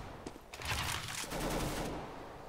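Rapid bursts of gunfire in a CS:GO match, a dense volley of shots that rattles for about two seconds and then tails off, loud and close with no voices over it.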